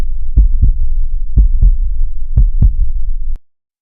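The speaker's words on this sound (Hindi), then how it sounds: "दिल तेजी से धड़कने लगा" Fast heartbeat sound effect from a Hindi horror cartoon: three paired lub-dub thumps, deep and punchy, evenly spaced over a low droning rumble, then cut to silence.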